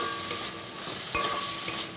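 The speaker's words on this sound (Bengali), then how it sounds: "মশলাটা নেড়ে নেব এবং মাছটাও এর সঙ্গে কষিয়ে নেব" Fish frying in spice paste with a little sour yogurt, stirred in the pan: a steady close sizzle with scraping stirs and a few sharper clicks of the spoon, no talk.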